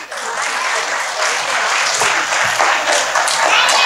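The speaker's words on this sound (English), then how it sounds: "All of you lift your hands up and bring your hands together, audience." A large audience clapping their hands together at a clap dance performance, a loud, dense and steady roar of applause filling the space, with faint voices mixed in beneath it.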